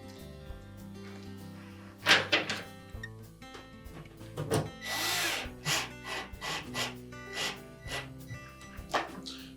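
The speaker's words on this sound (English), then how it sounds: "we can go ahead and install the rest of the screws." Screws are driven into a plastic detergent dispenser on a Frigidaire dishwasher during repair, heard as short, close bursts of a power driver with clicks and knocks between them.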